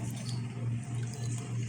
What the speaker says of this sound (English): fill the bowl with the water